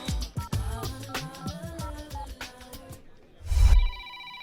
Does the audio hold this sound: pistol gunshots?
no